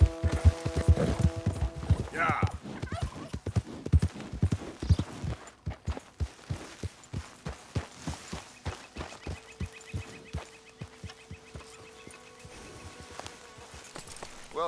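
Horse hooves clip-clop in a steady walking rhythm in the video game Red Dead Redemption 2, close and clear, with a low voice and a brief snort early on before the hoofbeats continue alone.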